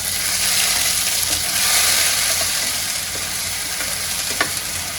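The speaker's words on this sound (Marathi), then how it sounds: "वाटणाला पण तेलामध्ये मी चांगलं परतून घेते" Ground masala paste frying in oil over medium-low heat for a Satara-style village mutton curry, a loud, continuous close sizzle with a few faint stirring scrapes.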